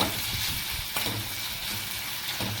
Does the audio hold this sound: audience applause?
no